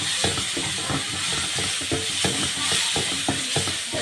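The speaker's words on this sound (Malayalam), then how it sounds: "നല്ലപോലെ വഴറ്റാം." Spices sizzle and fry in a pan while being stirred during rasam preparation, with regular scraping strokes over a continuous hiss, close and steady, without speech.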